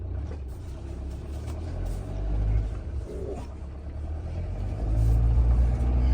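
A low, rumbling engine of an Autotrail Expedition 67 Pop Top camper van idling and revving gently as it turns around, the drone rising toward the end.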